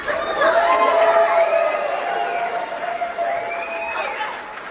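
A comedy club crowd at the Tempe Improv cheers and whoops loudly, with excited shouting swelling and then tapering slightly, applause mixed into the noise.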